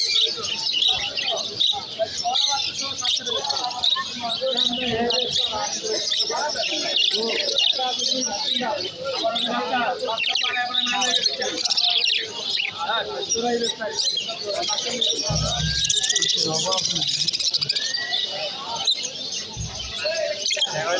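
Birds chirping at a busy bird market in Mirpur, many overlapping tweets and calls filling the air with a few coos, crowd chatter and voices mixed in.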